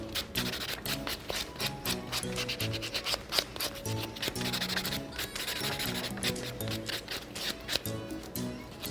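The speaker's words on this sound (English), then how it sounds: "I make sure I use almost all sides of the buffer because the buffer has different grits" A nail buffer rubs an acrylic nail in quick, fine scratching strokes, soft and close, repeating rapidly throughout with a faint background hum.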